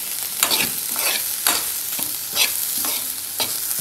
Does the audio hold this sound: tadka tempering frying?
yes